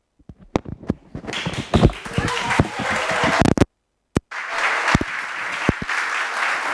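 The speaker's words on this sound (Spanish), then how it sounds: "Se merece ese aplauso, de verdad que sí" A church congregation applauds, starting with scattered claps that swell into steady clapping, then a short pause before a second burst of applause, moderately loud in the room.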